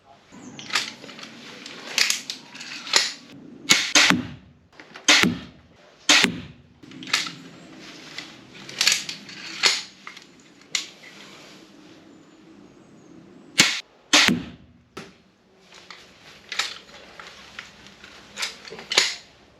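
The Vlad multi-shot tactical crossbow firing a rapid series of bolts, each release a sharp snapping thwack, about a dozen shots in irregular bursts with brief pauses, heard close up alongside some faint talking.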